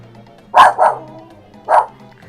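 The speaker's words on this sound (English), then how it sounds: "What are you barking at?" A dog barks three times close and loud indoors, two quick barks followed by a single one after a short pause, with no talking during the barks.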